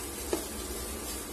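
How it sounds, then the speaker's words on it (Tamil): Ground coconut being stirred into sautéed cabbage and carrot in a pan: a steady low sizzle with one brief spoon scrape near the start, close and moderately quiet, with no voices. "இதையும் இதோட சேர்த்து நல்லா மிக்ஸ் பண்ணி விட்டுருங்க"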